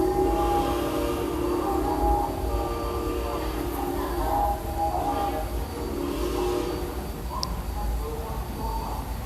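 Museum model train running after a button push, a steady rumbling rail sound with faint tonal hum, heard throughout with children and adults talking over it.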